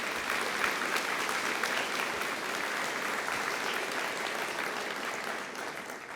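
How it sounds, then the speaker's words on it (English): An audience at a fire academy graduation applauds for several seconds, a thick, even roar of clapping that holds steady and tapers slightly at the end. "Let's give him a big round of applause."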